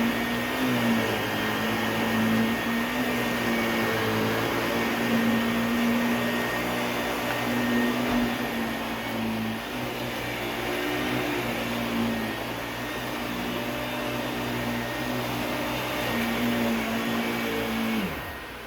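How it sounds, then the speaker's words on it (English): A Hoover Wind Tunnel canister vacuum cleaner, rewired to a central vacuum setup, runs in a steady loud drone with a constant whining tone that holds unbroken throughout. "This is a central vacuum Hoover wind tunnel canister"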